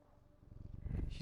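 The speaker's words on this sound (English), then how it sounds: "She's purring so fucking much" A house cat, just woken up, purring close and steadily in a rumbling low drone that swells louder toward the end, with faint talk in the room.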